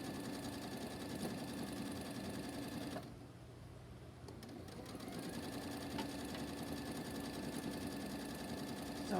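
A sewing machine runs steadily, stitching a quarter-inch pillowcase seam. The hum is continuous and fairly close, with a brief drop in the middle before the motor picks back up.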